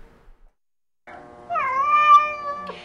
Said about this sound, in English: Meet Paws, the polydactyl cat.